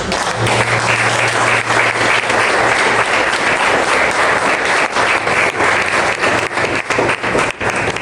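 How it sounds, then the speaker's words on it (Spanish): A church congregation bursts into loud, sustained applause, dense clapping filling the room from start to finish with no talk over it. "Iglesia, si tú has creído, dale un aplauso."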